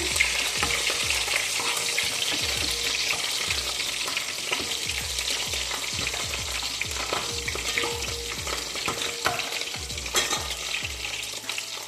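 Green chilies fry in oil in a pan for a palak mushroom curry, a steady dense sizzle with spatter and occasional utensil stirring underneath.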